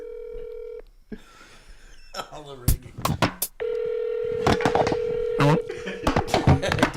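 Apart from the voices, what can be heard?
telephone dialing tones, calling on the phone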